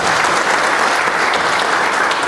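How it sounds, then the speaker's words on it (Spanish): Audience at a rural territorial development community forum applauds steadily, a dense, loud clapping that fills the whole moment without letting up. "Un fuerte aplauso para él."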